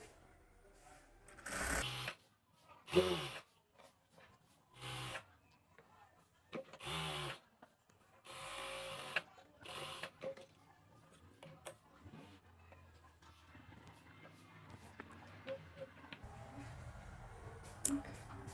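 A domestic sewing machine runs in several short bursts, stitching a single fold of salwar fabric to hold elastic, with quiet pauses and faint handling clicks between runs.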